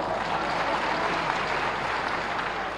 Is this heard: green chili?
no